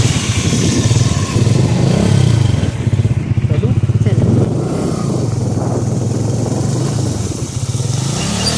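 Riding pillion on a motorcycle on a rainy road near the Ulhas river, the engine drones and revs loudly and continuously up close, with wind rush and a voice talking over it.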